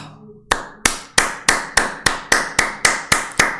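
Slow, evenly spaced hand claps, about eleven sharp close strikes in a steady rhythm with no other sound between them.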